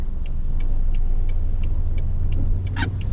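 Steady low rumble of car traffic passing on a town road in Bar Harbor, Maine, in late October, a continuous close engine drone with faint high ticking and a brief brighter swish near the end.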